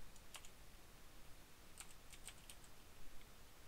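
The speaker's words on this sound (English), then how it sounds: "I'm having some problems with my keyboard." Keystrokes on a computer keyboard during a Minecraft session: a few scattered, quiet clicks in small clusters over a faint steady background hiss, with no talking.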